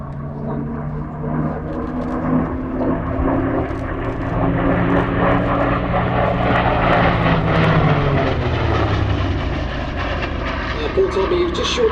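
A P-47 Thunderbolt radial-engine propeller plane roars past at an airshow, its engine drone rising and shifting in pitch as it approaches and passes, loud and sustained.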